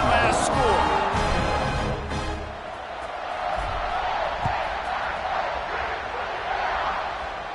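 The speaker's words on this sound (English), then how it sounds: "this crowd is buzzing after that last score" A stadium crowd at a football game buzzes with a steady, dense roar just before a kickoff, holding its level throughout under a commentator's voice.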